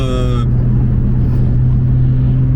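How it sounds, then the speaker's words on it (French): A loud, steady low exhaust drone from a Porsche 911 Turbo S (991.2) with silencer removed and stage 1 tune cruising under a bridge, a brief higher whine fading out at the start, with a constant rumbling roar throughout. "sous le pont, là, le côté échappement, on l'entend beaucoup mieux"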